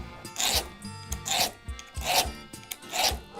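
Rhythmic rasping of a file sharpening chainsaw chain teeth, four or five even strokes close up, each a short gritty rub with brief pauses between.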